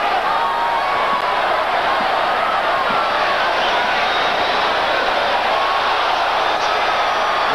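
A large boxing arena crowd roars in a continuous loud wash of voices at a Roy Jones Jr vs Mike McCallum fight, steady and dense from start to finish with no clear breaks.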